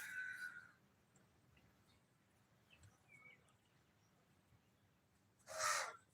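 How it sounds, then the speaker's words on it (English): A bird calling near a beach on the Indian Ocean coast in the morning, two loud harsh crow-like caws, one at the start and one near the end, with quiet background between. "Now I'm communicating to the bird."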